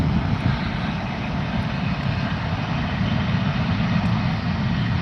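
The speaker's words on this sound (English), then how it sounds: "Virgin Australia, down runway 14 and rotate," A Virgin Australia airliner on its takeoff roll down runway 14 and climbing away, heard as a steady, loud, broadband jet engine roar that holds for the whole stretch, with no talk.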